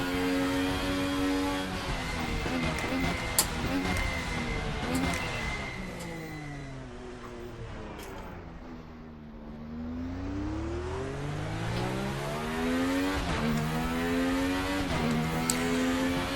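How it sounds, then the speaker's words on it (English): A DTM 95 race car engine in the Raceroom racing game wails through gears on a classic track, rising in pitch, dipping to a lower drone through a slower section, then climbing again with loud, continuous revving. "Nice sounding car."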